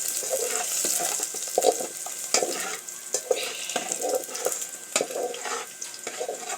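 A dish cooks in a pan, with close, continuous sizzling and frying and repeated scraping strokes of a spatula stirring the food, fairly loud with no talking.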